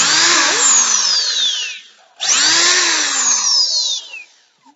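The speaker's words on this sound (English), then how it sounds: "We will then grab our drill." A power drill bores holes into a wooden stove cover in two loud, close bursts, each rising in whine as the bit spins up and then winding down, with a short pause between them.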